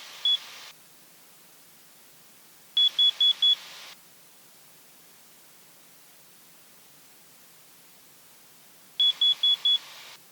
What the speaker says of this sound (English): successful test of my carbon monoxide alarm, and I can hear that even above the engine